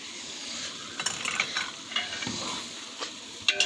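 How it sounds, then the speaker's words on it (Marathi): Soybean chunks fry in oil with tomatoes and peas, a steady close sizzle broken by scraping stirs and light clinks of a utensil against the pan. "सोयाबीन भी तेलात चांगली फ्राय झालेली आहे."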